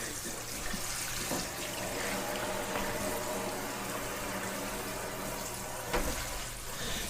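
Water pours steadily while potted Vanda orchids are watered indoors, a continuous close splashing and trickling flow with a few small knocks, no voices.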